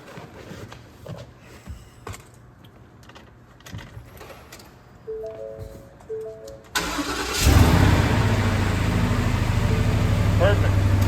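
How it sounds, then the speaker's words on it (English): A 2017 Ford F-250 with a 6.2L engine cranks briefly on its newly replaced starter, then fires and settles into a loud, steady idle, with quiet talk and clinks of tools beforehand. "Now we can start the truck now."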